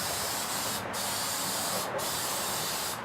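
Aerosol spray can laying a coat of paint onto a wood block, a steady close hiss running without a break, with brief dips where the nozzle eases off.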